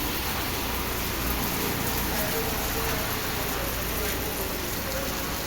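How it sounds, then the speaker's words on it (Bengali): Steady, heavy rain pours down without a break, a dense continuous patter that fills the whole stretch. "দেখ বাইরে কত বৃষ্টি হচ্ছে"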